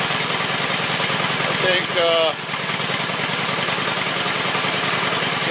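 An engine idles steadily after its idle speed has been adjusted, a close, even, throbbing rumble with a brief rattle partway through and someone talking over it.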